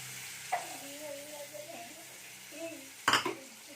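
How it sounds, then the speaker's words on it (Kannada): Hyacinth beans (avarekai), about a cup, tipped into hot oil and masala in a pan, giving a soft hiss with a clatter of beans and a utensil knock near the end, under a quiet voice. "ಈಗ ಅವ್ರಿಕಾಯಿ ಹಾಕ್ತಾಯಿದ್ದೀನಿ 1 ಕಪ್ಪು"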